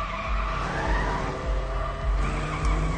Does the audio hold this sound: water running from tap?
no